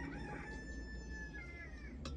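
A rooster crows once in a long, wavering call with chickens nearby, heard over steady low outdoor rumble, followed by a short sharp sound near the end.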